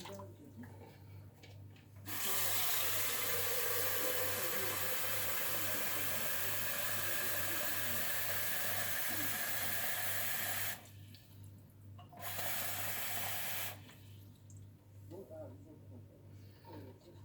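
Liquid poured from a 1250 ml measuring cup while mixing a cold drink: a long, steady splashing pour, then a short second stream after a brief pause, with quiet room sound on either side.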